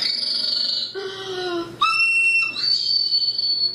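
A high-pitched recorder plays short, piercing sustained notes, one bending downward, close and loud with no talking over it.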